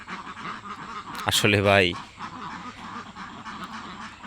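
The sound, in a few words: laying ducks quacking in a farm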